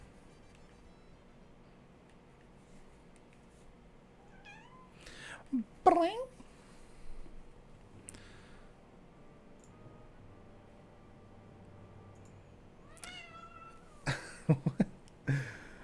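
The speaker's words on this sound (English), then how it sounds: "I don't know if you guys heard that, my cat meowing." A pet cat meows several times, a pair of close, rising calls near the middle and another short burst near the end, over quiet room tone with a faint voice.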